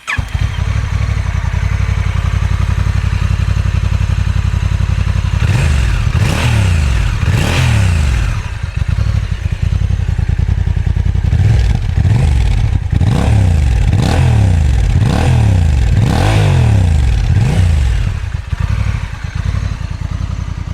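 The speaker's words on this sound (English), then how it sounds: "No bit of YouTube content would be complete without the obligatory sound check. So let's have a listen to this NT1100." Honda NT1100 DCT motorcycle engine revved repeatedly while stationary, loud and close, with a steady idle between sharp rising and falling blips of throttle.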